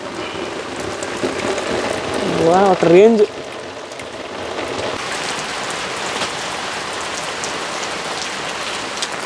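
Rain falls steadily at an outdoor wood-fire cooking spot, with a constant patter throughout and a voice briefly speaking over it early on.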